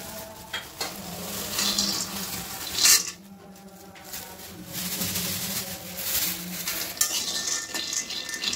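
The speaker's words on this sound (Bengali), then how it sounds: "বাদাম ভেজে নিচ্ছি, কাঁচা বাদাম।" Raw peanuts dry-roasting and being stirred in a pan over medium heat, continuous rattling and scraping with a faint sizzle, close and moderately loud, one sharp clatter midway.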